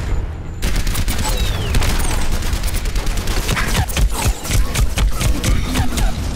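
Rapid bursts of gunfire crackle throughout an Overwatch match as an enemy turret fires, dense repeated shots and booms loud and close, with a voice partly buried in the barrage.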